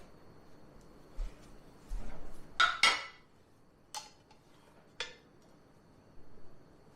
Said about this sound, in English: Then we're going to take the pan.